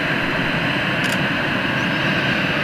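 A jet airliner roars at Cologne Bonn Airport, a loud, steady, broadband engine rush heard close and unbroken throughout, with no voices over it.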